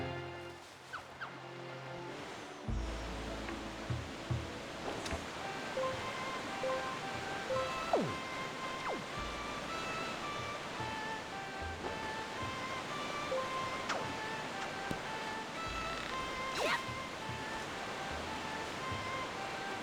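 A waterfall in the video game Wind Waker rushes as a steady, broad roar throughout, with occasional chimes and short game effects over it and no speech.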